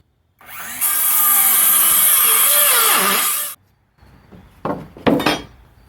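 A power saw cuts through a wood piece being trimmed for a Halloween fireplace mantel prop, a loud, close whine lasting about three seconds that bogs slightly before stopping, followed by a few knocks and clatters of wood being handled.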